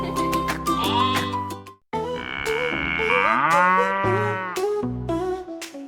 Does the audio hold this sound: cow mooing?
yes